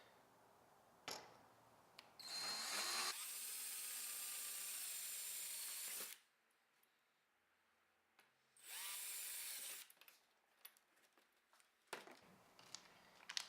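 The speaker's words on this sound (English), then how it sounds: "we'll go ahead and drill our remaining 2 holes" Two long bursts of a power drill whirring through a Hobie Outback kayak's hull for a rod holder, loud and close, separated by a quiet pause with small handling clicks.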